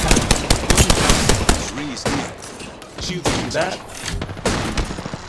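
Rapid automatic gunfire in Apex Legends, with dense bursts of sharp shots rattling close and loud throughout, pausing briefly mid-way before resuming, while a player speaks briefly over the shooting.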